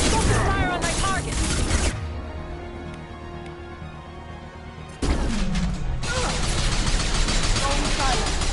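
Gunfire and crashing impacts from a Mass Effect 2 firefight, loud bursts in two dense stretches separated by a quieter lull, with squad voices calling out amid the combat.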